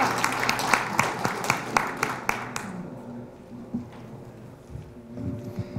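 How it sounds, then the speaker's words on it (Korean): Audience applause at a Korean panel event, a few seconds of distinct sharp claps that quickly thin out and fade, followed by a quiet room with a speaker beginning to talk. "여러분 큰 박수 부탁드립니다."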